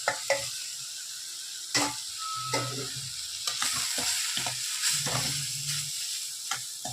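Chili powder, garam masala and turmeric fry with tomato and egg for a ridge gourd egg stir-fry, sizzling steadily in a pan while a spoon stirs and knocks against it in irregular, close clacks.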